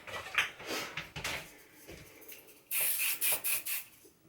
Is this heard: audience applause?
no